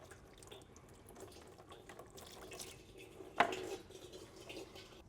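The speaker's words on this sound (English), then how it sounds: "While the oil finishes draining" Thin trickle of transmission oil draining from the pan of a BMW G20's ZF 8HP gearbox, a soft continuous liquid flow with faint drips and one brief metallic clink partway through.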